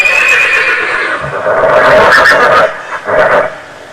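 A horse neighs loudly and close, a long shrill whinny that rises and then trails off in a couple of shorter bursts, with faint hoof and background noise.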